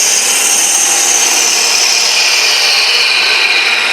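A bowl gouge rides the bevel across a wooden sphere spinning on a lathe, making a loud, continuous, close hiss of shaving wood that stays steady without pause.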